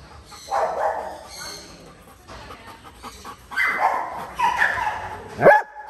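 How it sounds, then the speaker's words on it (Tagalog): A German Shepherd puppy and a Rottweiler bark and yip in short, excited bursts close by, with a sharp whimpering yelp at the end and faint voices in the background. "Hello, ito German Shepherd. German Shepherd na tuta. Ito, Rottweiler."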